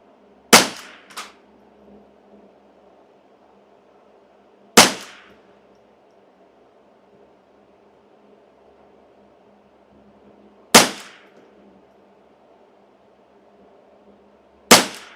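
Four sharp rifle shots from a customized Custom Shop Ruger 10/22 ring out alone, spaced several seconds apart, each a crisp crack with a short ringing tail and a quiet outdoor background between them.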